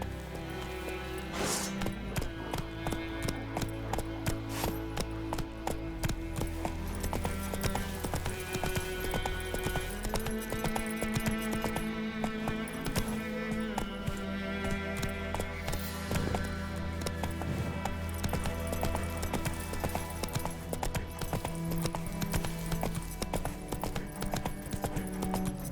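Horse galloping in The Witcher 3: Wild Hunt, rapid rhythmic hoofbeats clip-clopping steadily and close for the whole stretch, with game music or ambience underneath.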